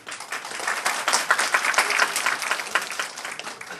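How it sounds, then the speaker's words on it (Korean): An audience gives a steady round of clapping to welcome the judging professors at a university tutoring program's final presentation, the dense applause sustained and fairly close throughout, with no talk over it. "힘찬 박수로 맞이해 주시기 바랍니다"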